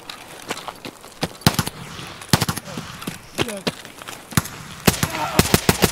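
Rifle gunfire in Escape from Tarkov, sharp bursts and single shots cracking out in uneven clusters, some close and loud, others more distant, with a voice briefly talking between them.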